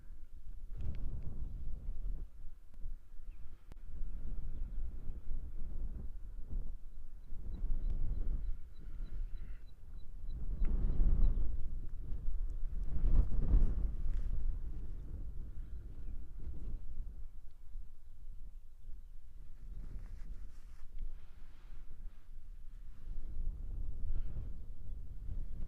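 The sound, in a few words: wind blowing outdoors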